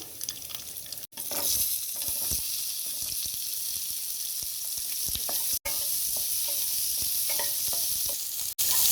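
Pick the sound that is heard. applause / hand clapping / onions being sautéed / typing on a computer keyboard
onions being sautéed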